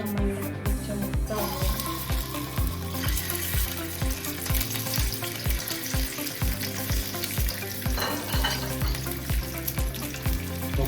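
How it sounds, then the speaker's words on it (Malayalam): An egg fries in hot oil with turmeric, giving a steady, dense sizzle and crackle throughout with regular clinking of a utensil, and no talking. "നമ്മളിവിടെ ഉണ്ടാക്കാൻ ഉദ്ദേശിക്കുന്ന മുട്ട ഒന്ന് പൊരിച്ചെടുക്കണം അല്ലേ?"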